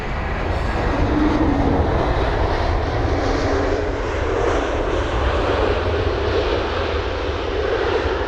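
A large jet airliner rolls along the runway at Heathrow, a loud, steady engine roar that fills the whole stretch without a break.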